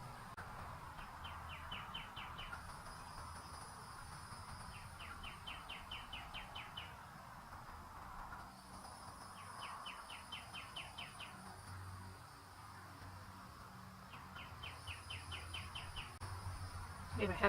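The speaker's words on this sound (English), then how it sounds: "We have a happy little cardinal in the yard" A cardinal sings in a damp backyard, repeating short, fast trilled phrases every few seconds over a steady hiss of insects, fairly faint and at a moderate distance.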